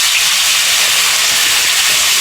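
Crushed garlic dropped into hot oil with cumin and asafoetida, a loud, even, bright sizzle that hisses steadily from start to finish.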